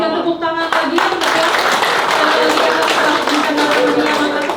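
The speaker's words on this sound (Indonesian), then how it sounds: "Mungkin Bapak Ibu yang lain boleh berikan tepuk tangan lagi untuk" Audience clapping at an MoU signing ceremony on tourism development between ITDC and BPPD South Sulawesi: loud, dense applause filling the room, with a voice over a loudspeaker at the start and talk mixed in.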